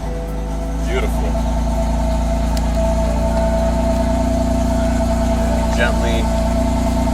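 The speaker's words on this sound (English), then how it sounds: "My cold start is definitely too loud." A BMW M4 engine idles loudly just after a cold start, a steady droning hum close up that persists throughout, with a brief spoken word over it.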